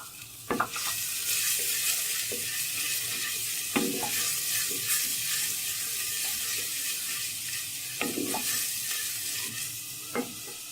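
Onions frying in butter in a pan for handi kabab, a steady close sizzle with a few scraping stirs of a spoon at intervals, no voices.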